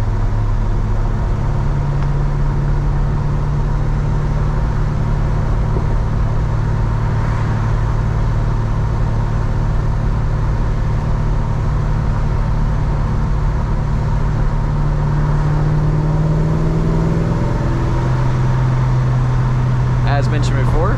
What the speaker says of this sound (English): The car sounds very solid.